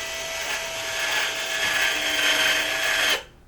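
A badge-making machine runs with a steady, loud motorized whir that holds for about three seconds and then cuts off abruptly, with no talking.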